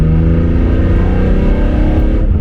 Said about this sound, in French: la boîte à air carbone, vous le savez, entre 2 et 3000 tours, le carbone résonne